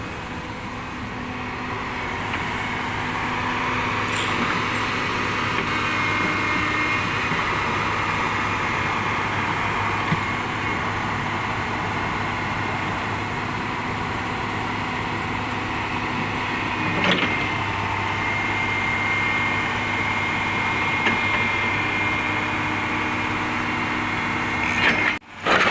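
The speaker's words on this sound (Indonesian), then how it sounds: "eskavatornya agak digas tinggi guys ya, jadi kelihatan" A Komatsu PC200-6 excavator engine held at high revs after restoration, a steady loud droning roar with a constant pitch that runs for about 25 seconds, with a few faint knocks on top.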